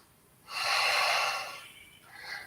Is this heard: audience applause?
no